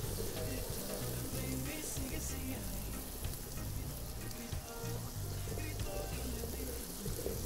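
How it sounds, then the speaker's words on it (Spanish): Chopped onion fries in a pan as the base of an Ecuadorian refrito, giving a steady, even sizzle and crackle that carries on without a break. "Vamos a dejar así que se fría un poquito la cebolla."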